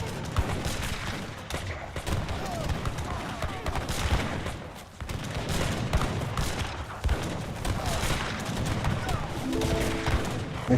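Dragoons opening fire in a 2v2 real-time strategy tournament match, with dense, continuous battle gunfire and booming impacts at moderate loudness beneath a commentator's voice.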